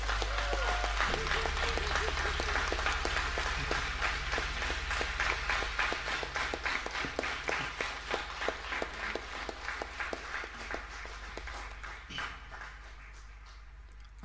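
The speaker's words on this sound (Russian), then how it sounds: "друзья, аплодисменты" Audience applause at the close of a meditation concert, dense steady clapping that thins into scattered individual claps and fades near the end.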